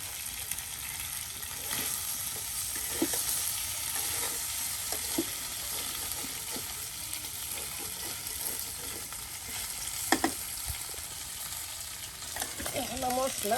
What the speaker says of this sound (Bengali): বেশ সময় নিয়ে ভাজা ভাজা করে নেওয়া হচ্ছে।